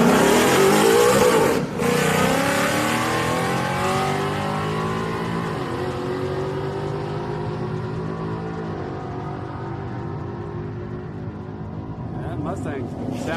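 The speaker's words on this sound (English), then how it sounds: "That Mustang sounds good." A Ford Mustang at a Houston Raceway Park street night drag race roars loudly as it accelerates down the strip, the engine note fading steadily into the distance over about thirteen seconds as the car pulls away.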